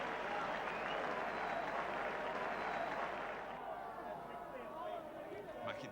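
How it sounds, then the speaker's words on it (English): Loud, sustained crowd applause fills a football stadium during a 1977 league match, a dense roar of clapping and cheering that swells steadily and fades slightly toward the end, with a commentator's voice underneath. "Tremendous applause for him."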